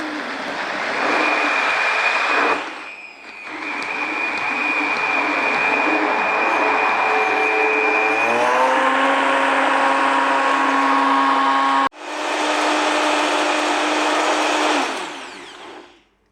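A kitchen blender mixes tiramisu cream containing solidified coconut oil, running loud and steady with a whining motor pitch that shifts upward, briefly cutting out and restarting before spinning down at the end.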